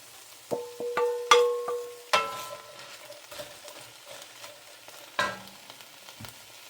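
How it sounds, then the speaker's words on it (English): Onions cook with browned beef in a pot for Irish stew, a low sizzle under sharp clinks and scrapes of a utensil against the pot, a few distinct knocks in the first seconds, then quieter simmering. "Add in the onions. Let that cook up a little bit."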